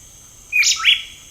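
A single bird, apparently a wren-type songbird, gives one short two-part chirp, a quick bright rising note followed by a second, close and clear against near silence.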